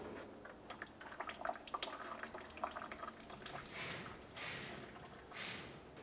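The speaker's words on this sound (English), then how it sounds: "Go ahead and start draining that coolant." Coolant drains from the bottom of the radiator on a 2003-2011 Mercury Grand Marquis, a steady close splashing water stream that keeps going with some surges, with no voices.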